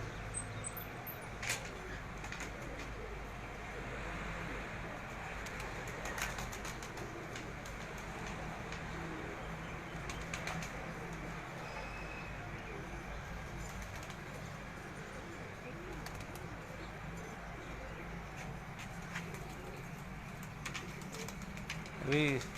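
Lakha breed pigeons on a rooftop loft softly cooing, with occasional brief wing flaps, faint and distant over a steady low background hum throughout.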